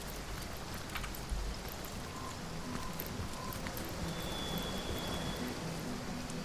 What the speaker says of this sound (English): Soaked to the skin. Oh, it's raining.